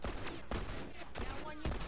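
Gunfire in The Last of Us multiplayer comes in several sharp bursts, spaced shots cracking over a steady game background.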